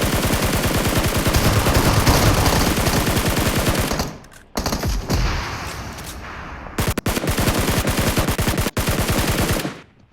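Rapid automatic gunfire in PUBG Mobile rattles loudly in sustained bursts, cutting out briefly twice before resuming with sharp isolated shots.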